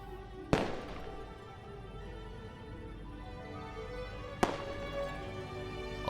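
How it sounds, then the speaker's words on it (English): Two sharp firework bangs in a video game, one early and one later, each a sudden loud crack over a steady low ambient background with no voices. "Illuminated by the glow of the fireworks"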